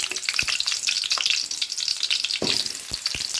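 Chopped onions frying in hot oil in a kadai for an Afghani egg dish, a steady close sizzle with scattered crackles and a few louder pops and stirring clanks, no talking.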